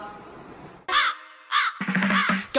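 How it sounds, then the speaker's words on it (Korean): A crow caws loudly nearby as it flies past, two or three harsh, close calls in a row after a brief quiet stretch. "까마귀 지나가"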